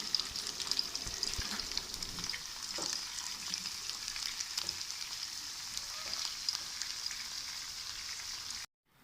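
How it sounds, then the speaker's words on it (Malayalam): Beef lacha pakoras crackle and bubble in hot oil on low flame, a steady fine sizzle at moderate level with a few light clinks, no talking. "നമ്മുടെ എണ്ണ ചൂടായതിലേക്ക് ഓരോന്ന് പയ്യെ ഇറക്കി വെച്ച് കൊടുക്കുകയാണ്"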